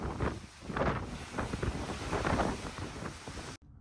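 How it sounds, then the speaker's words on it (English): Strong wind buffets the microphone on the open deck of the cruise ship Mariner of the Seas as it sails away from Mexico, a loud, gusty roar that surges and dips before cutting off abruptly near the end. "It is very windy, as you guys can tell."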